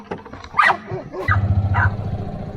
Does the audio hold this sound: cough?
no